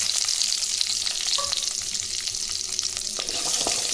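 Steady, loud sizzling of small shallots, fennel seeds and star anise frying in hot oil for kurma, with occasional stirring clicks from a utensil against the pan.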